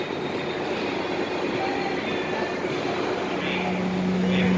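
A North Shore Scenic Railroad train gives off a steady, continuous rumble of rolling stock and wheels at moderate distance, with a faint, thin squeal creeping in near the end and no voices.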